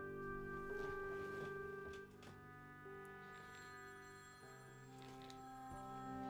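A steady electronic telephone ring from the video game Cats Solving Mysteries, with sustained tones, repeating over a droning background, moderately loud throughout.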